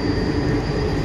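Train rumbling into Bolpur station, a dense steady rolling roar of carriages heard from on board, no talk.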